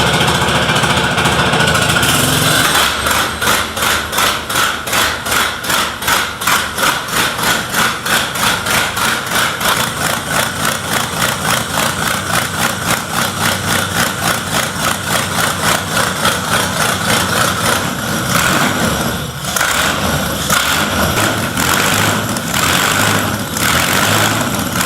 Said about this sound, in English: The first start of a J.A.P. V8 aerial engine, a 1910 air-cooled marvel built for early aviation.